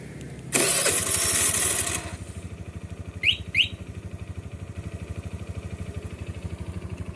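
A motorcycle engine cranks on its electric starter in a short burst, catches, and then settles into a steady, rhythmic idle, heard close with a couple of faint chirps partway through.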